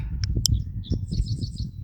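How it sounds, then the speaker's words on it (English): Birds call at a rookery on an island, sharp chirps and squawks in quick bursts over a low rumble of wind or motor noise, fairly close and clear. "This is a rookery, and when we first saw it, we saw all these birds"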